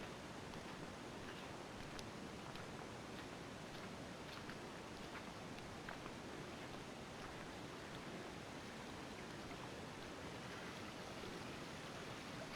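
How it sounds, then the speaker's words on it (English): A small waterfall on a bush brook along a fire trail, a steady broadband rush of falling water that stays even and continuous throughout, nearby and fairly full with no voices. "a pretty piss poor little waterfall there"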